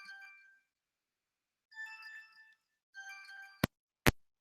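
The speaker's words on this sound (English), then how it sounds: "we have a phone call." An Android phone ringing with an incoming call: three bursts of a bright melodic ringtone separated by silent gaps, followed by two sharp clicks, alone and clear.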